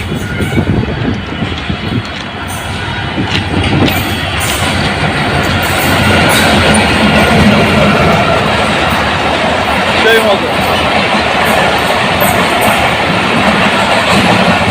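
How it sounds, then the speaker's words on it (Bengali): An intercity train rumbles past close by in Dhaka, a steady broad roar with rhythmic wheel clatter throughout, while someone speaks briefly over it. "এটা আন্তনগর, হয়তো ময়মনসিংহ যাওয়ার বা সিরাজগঞ্জ যাওয়ার ট্রেন"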